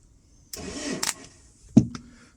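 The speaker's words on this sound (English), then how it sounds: "So it looks like the starter motor is either engaged or the solenoid is still engaged." Starter motor on a Mercedes Vito cranking the engine after the key is out, short bursts of whirring and clunking separated by pauses, fairly close and moderately loud.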